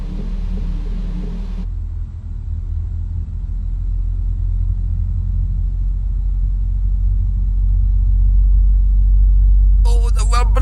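A Boeing 777-300ER engine spools up in a flight simulator, a loud, steady low rumble that builds and deepens over about ten seconds, with a short burst of higher-pitched chatter near the end.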